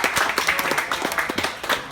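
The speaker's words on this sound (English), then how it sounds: "deserves a round of applause anyway" A small group claps briefly at a casual awards gathering, with close, uneven hand claps forming a short patter.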